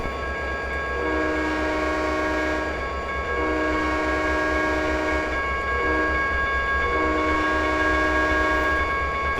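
A General Motors diesel locomotive train in the Trainz 2010 game, with a steady engine rumble under repeated long, loud multi-tone horn blasts.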